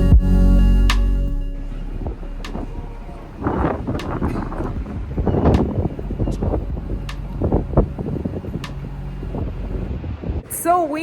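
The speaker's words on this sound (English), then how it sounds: "So windy, I'm tearing." Wind gusting outdoors on a London street, a steady blustery rush with buffeting against the microphone, loud throughout, while a person talks over it.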